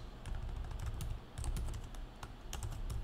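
Keys clacking on a computer keyboard during game development work, a steady run of quick, close taps with brief pauses, no talking.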